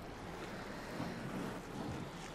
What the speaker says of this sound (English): You'll hit this fun water slide.